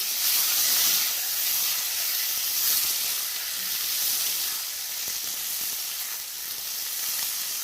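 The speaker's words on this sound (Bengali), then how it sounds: "লম্বা লম্বা করে যে বেগুনটা কেটে রাখছি ওগুলো দিয়ে দিচ্ছি। আমি নেড়ে চেড়ে দেবো।" Long strips of eggplant sizzle in hot oil in a pan while being stirred, a continuous close hiss with faint stirring scrapes and no talking.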